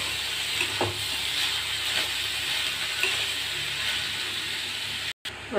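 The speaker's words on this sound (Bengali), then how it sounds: "এলাচ, লবঙ্গ আর দারচিনি ফোড়ন দিয়ে পেঁয়াজগুলো ভাজতে দিয়েছি" Onions frying in oil with cardamom, cloves and cinnamon for a dal tarka, a steady close sizzle with faint stirring taps, briefly cut off near the end.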